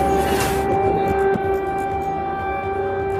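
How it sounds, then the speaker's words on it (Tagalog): A civil defense air raid siren wails steadily over Kyiv, a sustained tone with harmonics, heard at a distance beneath rumbling city background noise, with a brief burst of hiss at the start. "Umalingaw-ngaw ang sirena sa Kyiv"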